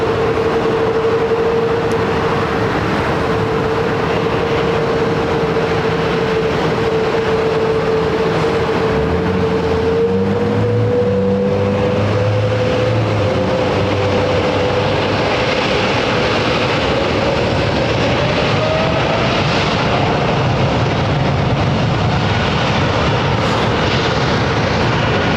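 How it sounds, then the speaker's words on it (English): Airliner in old livery touching down at London Heathrow, a steady engine whine gliding slightly upward over a broad rushing roar that stays loud throughout, with no voices. "New livery taking off, old livery touching down."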